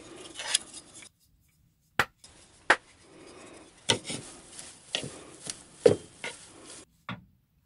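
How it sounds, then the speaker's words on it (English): Food being stirred in a pot for a Thanksgiving meal: scattered scraping, knocking and clattering of a utensil against cookware, intermittent with short quiet gaps, fairly close. "Now, we stir."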